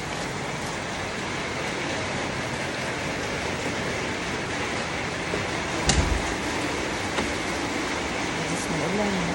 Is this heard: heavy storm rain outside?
yes